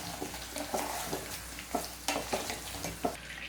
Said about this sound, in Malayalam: ഈ ഉണക്കമുളകും കറിവേപ്പിലയും ഒന്ന് ഫ്രൈ ആയിട്ട് വരണം, അത്ര മതി.